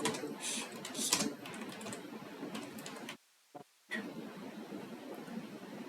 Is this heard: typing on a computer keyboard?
yes